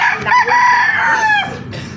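A rooster gives one loud, close crow, its drawn-out call rising and falling before breaking off near the end.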